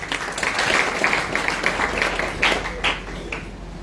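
A church congregation claps and applauds at a worship gathering, a dense patter of hands at moderate distance with a few louder bursts, sustained throughout.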